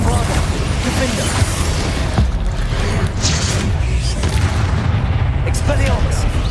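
A Bombarda blasting spell detonates in Hogwarts Legacy within a tomb battle, heavy booms and crackling debris over a dense, rumbling combat din, with speech mixed in.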